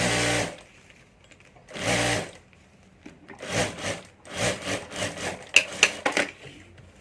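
A sewing machine stitches the top edge of a handbag's zip-pocket lining in two short separate bursts, then in a longer run of quick, uneven bursts of whirring needle action, close and fairly loud.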